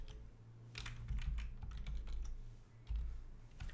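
Someone types SQL code on a computer keyboard, producing quick, close clusters of key clicks in uneven bursts with brief pauses, with a low rumbling background and no talking.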